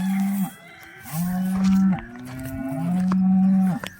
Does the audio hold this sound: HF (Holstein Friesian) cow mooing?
yes